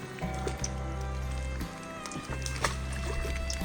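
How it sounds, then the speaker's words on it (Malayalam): Dalda ghee poured into a rice pot on a hot outdoor stove for beef biryani, giving a steady close liquid pouring and sloshing sound with low background hum, briefly interrupted and then resuming. "നമ്മൾ ഡാൽഡ ഒഴിക്കുകയാണ്"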